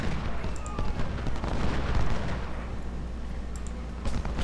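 Battlefield artillery and musket fire from the Civil War strategy game Ultimate General: Civil War, a dense continuous rumble of booms with sharper cracks scattered throughout, fairly loud and steady, with no voices.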